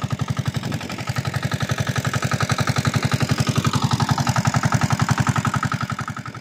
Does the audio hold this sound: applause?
no